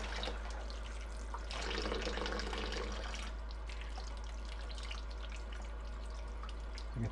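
Tap water runs continuously over shrimp in a bowl, a steady close splashing hiss that swells briefly in the middle, with no talking.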